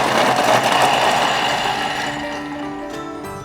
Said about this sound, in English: With Thermomix, it will actually chop by itself.